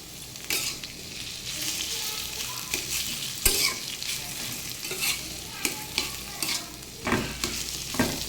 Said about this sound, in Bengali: এভাবে আমি কচুর শাকটা বেশ অনেক সময় ধরে অল্প আছে এরকম আস্তে আস্তে করে একদম শুকিয়ে ভেজে ফেলবো।